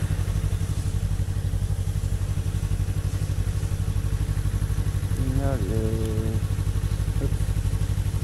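A 2022 Yamaha MT-03 motorcycle idles close by with a steady, throbbing engine note throughout, while a person briefly speaks partway through.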